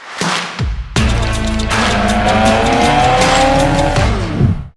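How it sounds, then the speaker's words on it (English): A Mitsubishi Evo 4 engine on speed density tuning fires up for its first start, cranking briefly, then catching into a loud, steady idle with a rough, buzzing tone that holds close and strong before cutting off. "Today, we're going to try to get the first start on the Evo 4."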